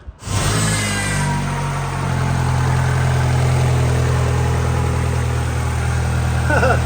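A car engine turns over and settles into a loud, steady running rumble close by, with a slight rise in revs midway.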